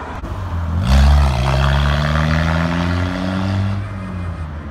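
A car with a faulty exhaust approaches, its loud, rough, rumbling exhaust swelling as it passes close by, then gradually fading.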